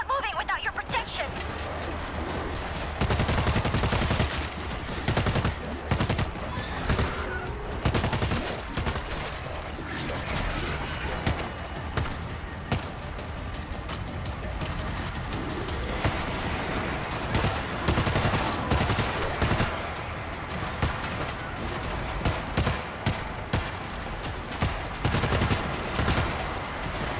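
Gunfire in World War Z during a Tokyo level, sustained bursts of automatic weapons and rapid shots crackling loud and dense over game noise, with a voice calling out partway through.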